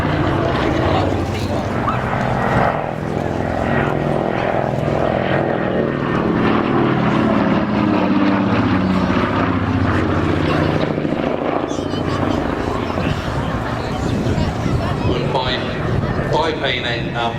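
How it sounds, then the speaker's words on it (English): A vintage 1936 monoplane flies at an airshow, its propeller engine droning loud and steady throughout, with a commentator talking over the noise. "Incredibly manoeuvrable for such a vintage aircraft."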